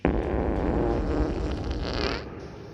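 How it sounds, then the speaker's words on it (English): A booming fart sound effect, loud and sustained, rumbling low and continuous for over two seconds before tapering off, with no talk over it. "released a booming fart into the small room"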